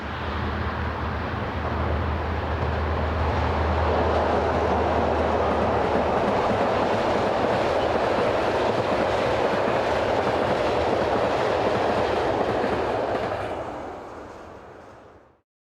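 An eastbound oil train on the main line between Bamberg and Saalfeld in Germany's hilly Frankenwald rolls past, a long loud roar of rumbling wheels and clattering wagons with heavy engine drone early on, fading at the end.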